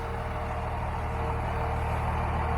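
A Ford King Ranch truck fitted with a swapped 24-valve Cummins 5.9 diesel runs steadily, a close, even low-pitched drone with a throbbing rhythm and no breaks.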